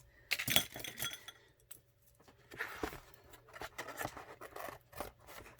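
Scissors snip through collage paper along the edge of an art journal page, a run of crisp cuts with small clinks and rustles, close and fairly quiet, no talking.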